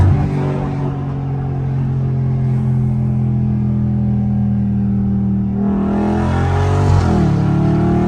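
Catless Dodge Scat Pack V8 revving hard during a downshift, heard from inside the car: a loud, sustained engine roar with a deep rumble, then a sharp rise in pitch as the revs climb near the end.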